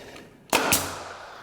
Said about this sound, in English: I'm gonna go ahead and shoot another nail